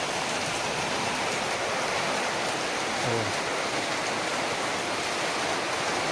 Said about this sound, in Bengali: হ্যাঁ, জল পড়ছে কি অবস্থা জল পড়ে